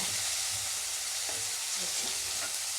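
Chopped onion frying in a pan with salt and bay leaf, a soft steady sizzle with faint crackles, heard close and alone.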